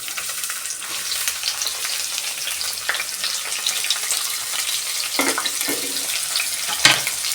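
Green chillies and thick onion pieces frying in oil and ghee for ghee rice make a constant close sizzle, with a few louder spatters and stirring scrapes breaking through.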